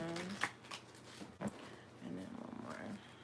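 A tarot card deck being shuffled, soft papery riffles and taps at low level, broken into short bursts with a voice speaking over parts of it.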